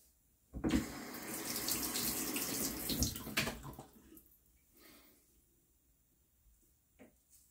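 Tap water runs steadily for about three seconds as a shavette razor is rinsed under the faucet, then cuts off, leaving faint drips and small sink noises.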